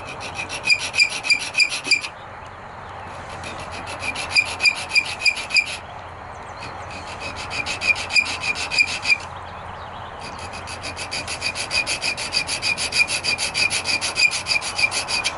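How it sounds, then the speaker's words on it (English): A file rasps across a lap steel guitar nut, cutting string slots in steady back-and-forth strokes, in bursts with short pauses between them, close and fairly quiet with no talking. "I'm filing flat across right now"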